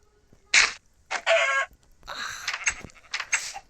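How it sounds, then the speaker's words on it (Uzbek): Farm chickens cluck and squawk in short, loud, separate bursts with quiet gaps between them, close by. "Kelinglar, tovuqlar."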